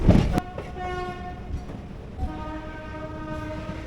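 Passenger train in West Bengal rolling along the rails near Naihati and the Jubilee Bridge over the Hooghly river: a loud burst at the start, then a steady rumble with sustained tonal whine and occasional knocks, heard from on board.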